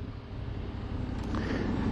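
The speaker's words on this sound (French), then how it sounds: "Et en plus le pot il fait un bon petit bruit." Yamaha Ténéré 700 motorcycle exhaust while riding, a steady low engine drone mixed with rushing wind noise, continuous and fairly loud without talk.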